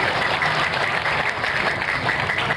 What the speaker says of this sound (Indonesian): tepuk tangan untuk remaja tahlil